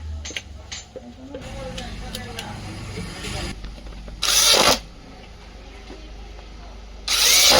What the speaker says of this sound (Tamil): இந்த 2 ஸ்க்ரூ வந்து போட்டுக்கலாம்